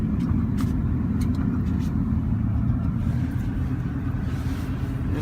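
A car held in a lower gear drives along, producing a steady, loud low engine rumble with road noise close by, unchanging for the few seconds heard.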